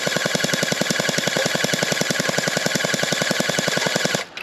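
Unlocx gel blaster toy gun firing gel bullets in a rapid, steady full-auto burst of evenly spaced shots, loud and close, running about four seconds before stopping abruptly.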